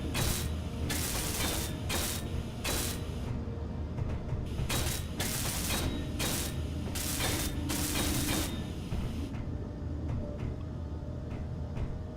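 A welding tool in Space Engineers buzzes and crackles in repeated broadband bursts as a block is welded, loud and close, with a steady mechanical hum running underneath.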